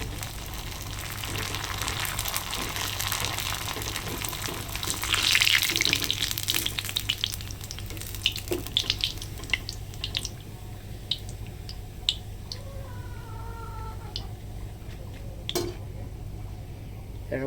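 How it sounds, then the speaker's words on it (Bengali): Papad frying in hot oil, a close bubbling sizzle that swells loudly as the wafers hit the oil, then settles into a steady crackle with scattered sharp pops and taps of a utensil. "আমার তেলটা গরম হয়ে গেছে আমি এখন পাঁপড়গুলো ভেজে নেবো"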